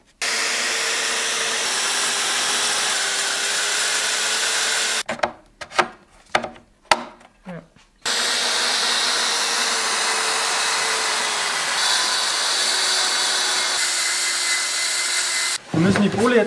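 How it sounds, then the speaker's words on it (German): A power saw cuts through a solid oak plank for a living-room table: a loud, steady whining cut runs for about five seconds, breaks into short bursts, then resumes as a long sustained cut before stopping. "Wir sägen das einmal durch"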